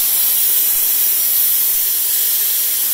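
Plasma torch cutting pipe gives off a loud, steady high-pitched hiss and roar of rushing air, constant and alone for the whole stretch.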